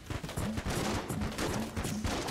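Rapid gunfire in the Enter the Gungeon video game, dense bursts of repeated shots layered over each other in a loud, continuous volley.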